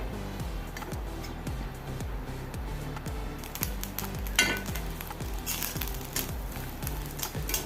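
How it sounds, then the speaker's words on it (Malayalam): Grated coconut stirred and dry-roasted in a pan on a gas stove at full flame, with a rapid, regular rhythm of scraping strokes and a soft constant crackle, close and moderately loud. "നമുക്ക് ഗ്യാസ് ഓൺ ചെയ്ത് അടുപ്പത്ത് വെക്കാം നല്ലപോലെ ഇളക്കി കൊടുക്കാം"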